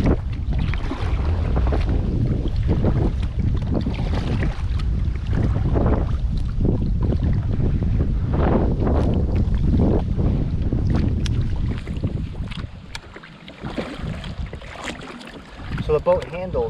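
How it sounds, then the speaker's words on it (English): Strong wind roars steadily across a small boat out on open water, buffeting the microphone almost continuously before easing and turning gustier toward the end. "it's actually windy out right now"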